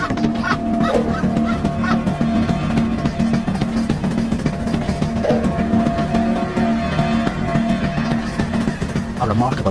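Snow geese honk repeatedly amid a dense, noisy flock, the calls overlapping in a continuous loud clamor.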